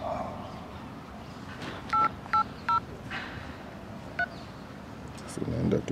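A phone dial pad emits short electronic tones, three evenly spaced beeps followed later by a fourth, over a murmuring background with voices nearby.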